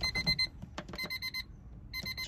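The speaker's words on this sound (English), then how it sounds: "it should make a beeping sound." Door chime of a 1999-2000 Honda Civic beeping with the key in the ignition and the door open, a quick series of sharp, close electronic beeps in short bursts with a pause in the middle.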